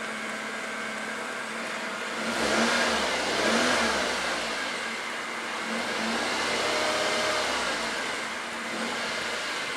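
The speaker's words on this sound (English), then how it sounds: "Let's see if I can listen to that sporty 4-cylinder." A 2010 Suzuki Swift Sport's four-cylinder engine with dual exhausts revs twice from idle, each blip rising then settling back, recorded close with no talk.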